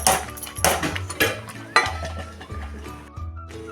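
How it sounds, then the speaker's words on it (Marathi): A spoon stirs barnyard millet upma in a metal pot, with close, loud scraping and clinking strokes repeating about every half second to second over a short stretch. "हा आता एकसारखा हलवून घेऊया"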